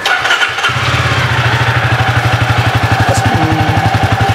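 A maroon Jawa motorcycle engine fires up with the key and settles into a loud, close, steady idle, thumping in an even rapid rhythm with no speech.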